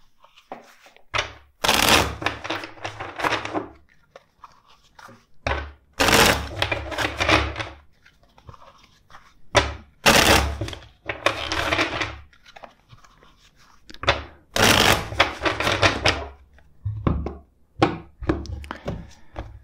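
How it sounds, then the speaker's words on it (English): A tarot card deck is shuffled in several separate bursts, each a loud, close, crisp riffle followed by a quiet pause. "Let's shuffle the deck four times for you."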